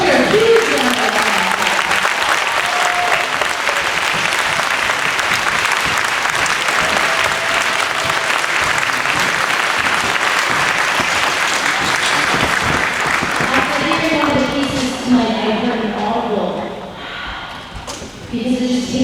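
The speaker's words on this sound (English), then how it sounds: "Let's hear a huge round of applause." An audience at a middle school winter concert gives sustained, loud applause with dense clapping that fades toward the end as a voice begins speaking over it.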